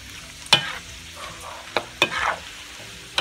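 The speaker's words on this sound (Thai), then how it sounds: "นี่สังเกตดูนะครับคนทอดก็จะต้องคนตลอดอันนี้คือไฟเบานะครับ" Marinated pork fries over low heat in a pan while being stirred, giving a soft steady sizzle broken by a few sharp scrapes and clinks of the utensil against the pan, with no talk.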